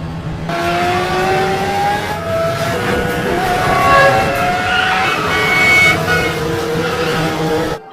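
A car chase scene in a film, with engines revving and accelerating loudly and continuously, rising and falling pitch as vehicles race along, plus brief tire skids over a dense dramatic mix, with no talk.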